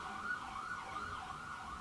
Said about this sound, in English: Let me let that siren pass.